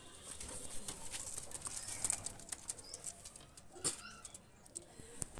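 Pigeons freed from the hand coo softly, with a brief flutter of wings and light pattering, rather faint against a steady outdoor background.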